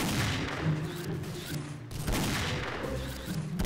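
Sniper rifle fire in the XSHOT shooter game, heavy booming reports with a battle-noise backdrop, a couple of loud shots separated by short gaps.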